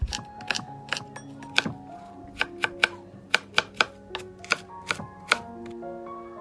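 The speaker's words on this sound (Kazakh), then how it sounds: "Алдымен 2 алмамызды осылай майда етіп турап алатын боламыз." Knife chopping apples finely on a board, a series of sharp, irregular taps close by, some quick clusters and some spaced hits, no talking.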